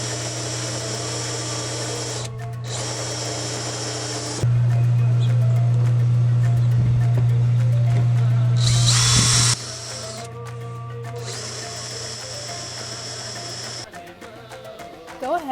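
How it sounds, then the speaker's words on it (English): Power drill boring holes into a plastic rain barrel, a steady whining drone that runs in bursts, pausing briefly and then surging louder for several seconds before easing back. "Now we're going to go ahead and drill the holes."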